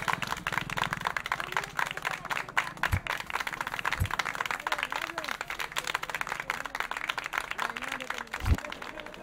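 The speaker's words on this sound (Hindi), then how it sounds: "और जोर से तालियां बजाएं।" A crowd applauds at a mass wedding ceremony, a continuous patter of many hands clapping under voices and other background sound.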